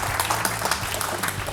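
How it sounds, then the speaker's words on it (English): Steady round of applause from an audience for two podcast guests at an Atlassian and Accenture enterprise agility session, dense and even throughout this short stretch. "Let's give Bernie and Otmar a round of applause."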